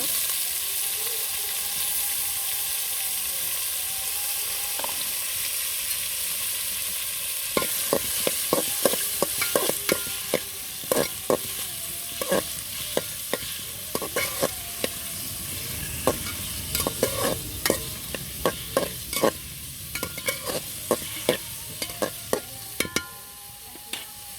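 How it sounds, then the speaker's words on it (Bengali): Sliced radishes fry in oil in a pan over a clay stove, giving a continuous sizzle that grows busier midway, with frequent sharp clicks and scrapes of a utensil stirring against the pan. "মূলাগুলো একটু তেলের মধ্যে ভেজে নিব।"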